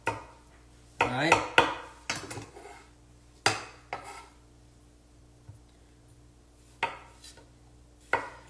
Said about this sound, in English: Chopping up some tomatoes on Clubhouse if you guys are listening.